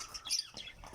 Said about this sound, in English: Yes, so many parrots.